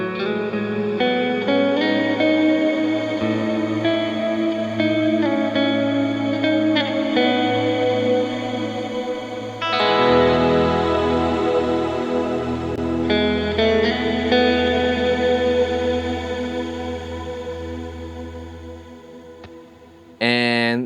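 Ambient electric guitar played through shimmer reverb with an added octave up, sustained chords swelling into a bright, washy, echoing tail that lingers loud and continuous for about twenty seconds with no talking.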